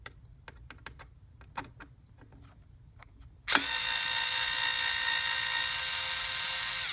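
An electric Phillips screwdriver backs a single screw out of the top of a digital air purifier: a few soft clicks, then a loud, steady, close motor whine that runs without a break to the end.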